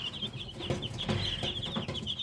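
Young chickens in a brooder cluck and peep continuously, a busy chorus of small birds heard close up with no talking.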